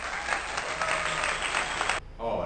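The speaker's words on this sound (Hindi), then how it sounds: "तो एक बार जोरदार तालियां पहले तो भैंसू रंछनी जी" Loud applause for Bhainsu Ranchhani, a dense burst of clapping that cuts off abruptly near the end, followed by a brief voice.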